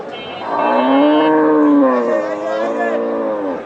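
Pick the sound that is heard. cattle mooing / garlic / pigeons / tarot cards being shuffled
cattle mooing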